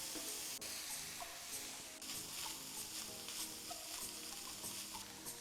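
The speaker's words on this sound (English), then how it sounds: "Now we're gonna add our half chopped onion" Chopped onion sizzles and fries with browned, drained ground beef in a pan over medium heat, a steady close hiss with occasional stirring scrapes, no talking.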